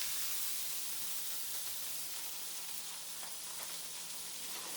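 Beef chuck roast sizzles on a flat-top griddle, a steady broad hiss of frying fat that holds at an even level throughout with faint crackles and no voices.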